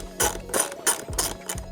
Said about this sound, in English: now we're gonna take off the 2 10 millimeter bolts